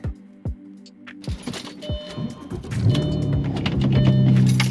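An Audi B5 S4 with newly installed large intercoolers starts off with clicks and thumps, then the engine settles into a steady low rumble as it drives, close and fairly loud.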